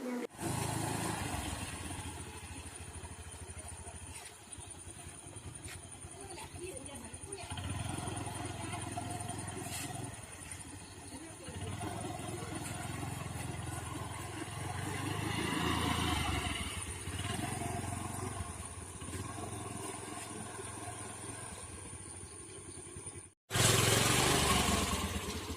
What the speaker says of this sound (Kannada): ಈ ಥರ ಸ್ವಲ್ಪ ಎಕ್ಸಲೇಟ್ರ್ ಕೊಟ್ಕೊಂಡು ನಿಧಾನಕ್ಕೆ ಗಾಡಿ ಮೂವ್ ಮಾಡ್ಕೊಂಡು ಬನ್ನಿ